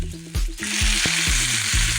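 Soybean chunks and potato frying in a pan, a steady bright sizzle with periodic stirring scrapes and thumps, close up and with no voices.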